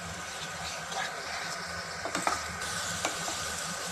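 Ground spices and cooked-down ginger-garlic paste sizzle in a pot for mutton biryani, a constant frying hiss broken by several scraping stirs and a light clink.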